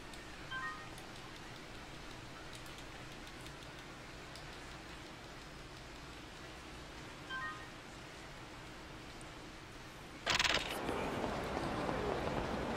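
Steady rain falls on a dark bridge in the video game Yakuza Kiwami, a constant soft hiss with a few faint electronic beeps, then a sudden louder burst of noise near the end.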